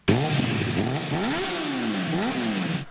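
Motorcycle engines revving at a motorcycle shop event in Brasília, a loud, close engine that rises and falls through several throttle blips, rough and throaty, with no talk over it.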